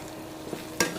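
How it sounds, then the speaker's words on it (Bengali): Dried fish fries in hot oil with onions while a spatula stirs the pan, a close crackling sizzle broken by two sharp scraping strokes near the end. "শুটকিটাকে ভাজা করে ভাজা করে নিই"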